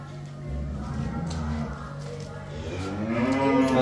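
Low, drawn-out Jersey cow moos nearby on a farm, several in succession, with faint voices in the background.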